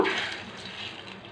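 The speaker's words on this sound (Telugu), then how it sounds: "బాగా మరగాలి నీళ్ళు మెరిగితేనే టేస్ట్గా ఉంటుంది" Water comes to a boil in a pot for jeera rice, a steady, close, rushing bubble and hiss that fades slightly over its short run.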